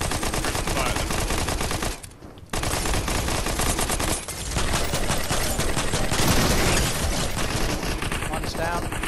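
Dense, rapid gunfire from the Fortnite video game, loud sustained volleys with two brief gaps, with players talking over the shooting.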